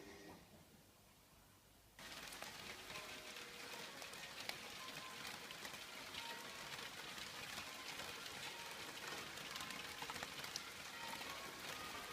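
Heavy rain pours down steadily outdoors, a dense, close wash of drops drumming on surfaces that starts abruptly and holds constant with no talking.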